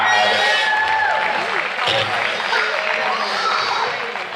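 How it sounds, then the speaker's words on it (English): Applause and cheering from the crowd at a junior livestock swine show honour a class winner, a sustained round of clapping that fades slightly at the end, with an announcer speaking over it. "How about a round of applause for Addison Steely?"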